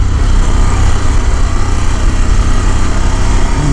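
Harley-Davidson Pan America 1250 Special motorcycle engine under way, a loud, close, steady engine drone with rushing wind buffeting continuously throughout.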